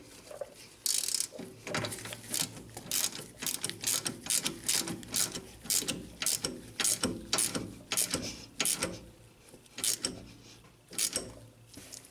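Ratchet wrench tightening front strut bolts on a 2000 Honda Civic, a run of close, sharp clicking bursts in steady repeated strokes, loud and alone with no talk.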